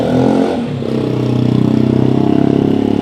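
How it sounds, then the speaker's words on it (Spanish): A very noisy motor scooter passes close by on a pedestrian street, its engine droning loud and steady with a rapid pulsing rhythm as it rolls past. "Está pasando una motoneta que mete muchísimo ruido, y estamos en la peatonal."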